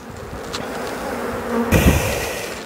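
Honeybees crowd around two hives while a swarm is being made on the coast, filling the air with a close, continuous buzz that swells slightly louder toward the end.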